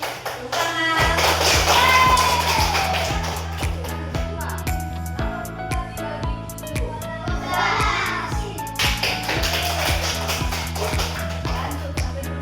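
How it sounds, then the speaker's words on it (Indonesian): Schoolchildren in a primary-school classroom clap along in a steady rhythmic pattern over a repeating musical beat, the claps sharp and close, with children's voices chattering underneath. "Tepuk tangan."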